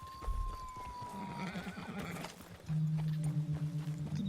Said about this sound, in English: The donkey painted like a zebra.